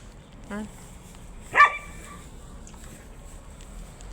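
A dog gives two short barks, a small yip then a louder bark, against quiet background.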